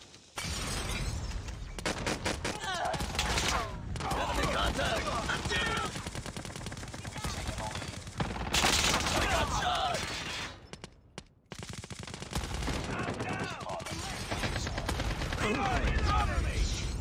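Fennec submachine gun firing in Call of Duty Mobile: rapid, sustained automatic bursts with crackling impacts that continue almost without pause, dropping out briefly once before resuming at full loudness.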